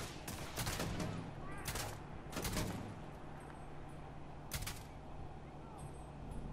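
Gunfire in the sci-fi video game Starfield, several loud bursts of shots spaced through the clip over a steady in-game background hum, with no talking.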